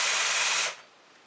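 A hand file scrapes along a chainsaw chain tooth in one short, bright, hissing stroke that stops abruptly and leaves near silence.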